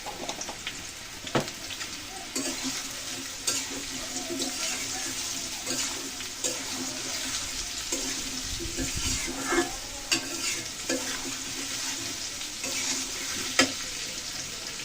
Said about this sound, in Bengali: আলু সয়াবিন খুব সুন্দর করে ভেজে নিয়েছি।